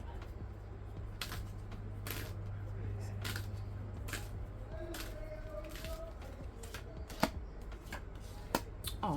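Tarot cards are shuffled by hand in a run of quick papery riffles and flicks, close and fairly quiet, with a voice talking faintly at times.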